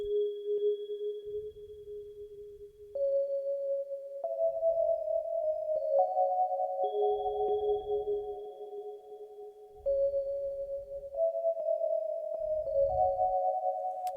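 A synthesizer preset from Synth Master 2 plays a slow, sustained counter melody of held tones stepping between pitches, with soft low thumps pulsing underneath.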